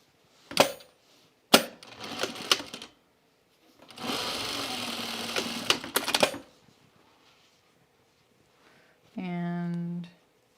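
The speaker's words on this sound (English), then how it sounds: "now let's sew this together" Jacket pieces being sewn together: a couple of sharp clunks and clicks from handling, then a sewing machine runs in a steady close burst of about two seconds, and a short tonal whir follows after a pause.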